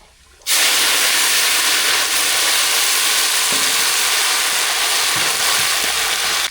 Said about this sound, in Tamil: எண்ணெய் சூடாயிடுச்சு கடுகு சேர்த்துக்கலாம் கடுகு நல்லா பறிஞ்சிச்சு கருவேப்பிலை சேர்த்துக்கலாம்